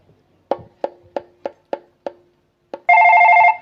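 A telephone rings with a run of short, evenly spaced bell strikes, then breaks into one loud, sustained electronic trill at the end, close and clear with no talk over it.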